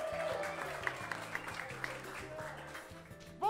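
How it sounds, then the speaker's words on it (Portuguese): A dance school audience at a student showcase applauds a dance duo, clapping steadily at a fair distance, with a voice speaking over the sound. "Uma salva de palmas!"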